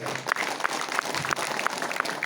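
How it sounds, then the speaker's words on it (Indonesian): An audience applauds at an Islamic religious sermon, a steady, dense patter of clapping that carries on for a couple of seconds. "Oh, tepuk tangan."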